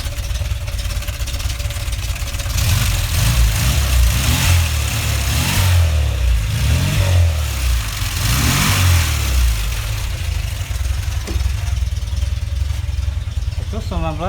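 Engine of an old Škoda 105L car, still cold, running and revving loudly with repeated rises and falls in pitch, with a voice speaking over it.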